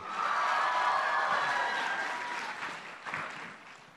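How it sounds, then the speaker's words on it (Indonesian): Audience applause for a religious teacher at a stage event, a broad wash of clapping that swells early and then gradually thins and fades with no voices over it. "Mohon berikan tepuk tangan untuk Ustaz Dasat Latif."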